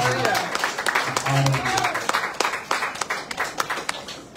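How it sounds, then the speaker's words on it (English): A church congregation claps hands in praise at a service, a broad ripple of applause with a voice speaking over it early on, thinning to scattered claps. "Can you clap your hands and praise the Lord for the honor of God?"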